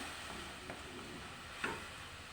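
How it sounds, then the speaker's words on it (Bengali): Spice masala with whole cumin, dry red chillies, turmeric, chilli and cumin powder frying in oil, a faint, steady sizzle with a couple of soft stirring scrapes. "এবার মশলাটা ভালো করে কষিয়ে নেব"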